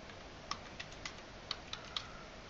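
Password being typed on a computer keyboard at a login screen, a sparse run of about six soft key clicks spaced unevenly over a faint steady background hiss.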